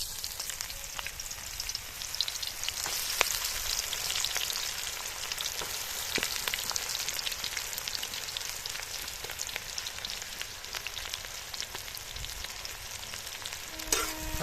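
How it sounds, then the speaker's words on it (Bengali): Chopped onions frying in hot oil for a chicken curry, a dense, even crackling sizzle close by, continuous throughout with tiny spitting pops. "এবার তেলটা গরম হয়ে গেলে তো আমরা একে একে পেঁয়াজ কুচিগুলো দিয়ে নেবো"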